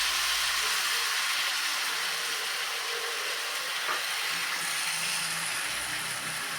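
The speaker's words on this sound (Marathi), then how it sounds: "आधी साईडने सोडायचं आणि मग नंतर मध्यभागी कारण मध्यभागी तव्याची किंवा पॅनची हीट जास्ती असते" Cucumber ghavan batter for a fasting-day pancake poured onto a hot pan, producing a loud, steady, close sizzling hiss that holds evenly throughout without speech.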